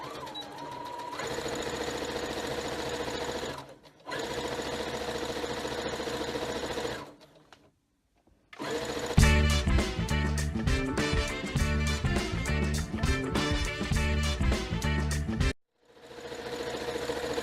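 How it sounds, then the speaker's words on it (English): A sewing machine stitches around the edge of a turkey headband in loud, steady bursts of rapid needle clatter, stopping briefly between runs, with a faster, more intense stretch near the end. "we just sew around the edge"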